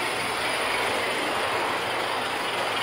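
An Aster KPEV P8 live steam model locomotive runs past on the track with a continuous rolling rumble and a faint metallic wheel squeal, steady and fairly close, with no talking.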